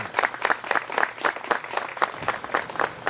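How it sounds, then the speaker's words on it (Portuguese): A crowd at a commemorative ceremony for the 182nd anniversary of the Combate da Venda Grande in Campinas gives a round of applause for past and present heroes, a rhythmic, fairly close clapping that pulses in distinct waves. "peço uma salva de palmas para os heróis do passado e para os heróis do presente da sociedade"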